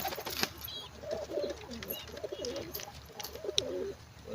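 A foster pigeon kept with a chick coos repeatedly in low rolling phrases, soft and nearby, with faint background noise between calls.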